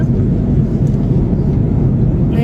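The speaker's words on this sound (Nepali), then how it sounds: "रातो प्लेनमा उडिरहेको छौँ हामी" A Malaysia Airlines airplane in flight to Adelaide, Australia makes a loud, steady, low roar that holds constant throughout, like the drone heard from inside the cabin.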